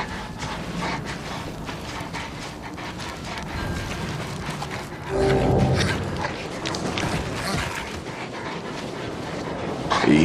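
A dog in the Mad Max video game pants and whimpers nearby over a constant rough background rumble, with the noise briefly swelling louder midway.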